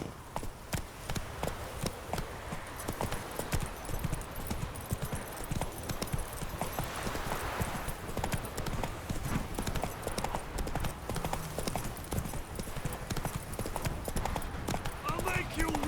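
Roach the horse gallops in the Witcher 3 video game, hooves clip-clopping in a fast, continuous rhythm close by, with a voice talking over it.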